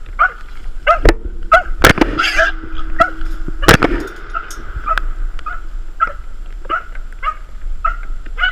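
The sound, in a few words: hog dog barking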